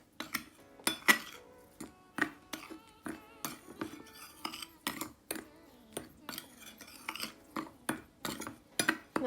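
A spoon stirring sifted dry cake ingredients in a bowl for a chocolate mug cake, a quiet close series of irregular scraping taps and clinks against the bowl, repeated throughout, no speech.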